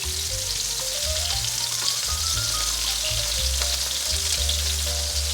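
King oyster mushroom pan-frying in oil for a vegan dish, a loud, continuous, close sizzle and crackle that holds steady throughout, with no voices.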